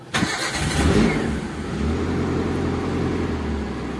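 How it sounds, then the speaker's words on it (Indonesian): A 1995 Daihatsu Zebra Espass engine cranks and catches with a short burst, revs briefly, then settles into a steady low idle, heard close with no talk. "Ini mesin sudah nyala, kita biarkan idle sampai nanti dia panas ya."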